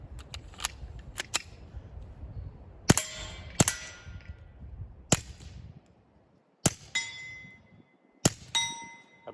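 Suppressed shots from a Smith & Wesson .22 compact pistol with a Rugged Mustang suppressor, firing Fiocchi 40 grain subsonic hollow points: several sharp, close cracks in irregular succession, some with a bright metallic ring, separated by quiet gaps.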